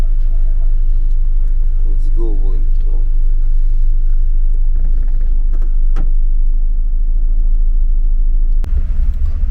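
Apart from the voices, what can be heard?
cargo truck engine running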